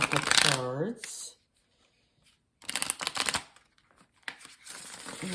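Spirit Animal Oracle cards are drawn and shuffled from the deck in close, brief papery bursts of riffling and sliding, separated by quiet gaps, with a voice speaking at the start.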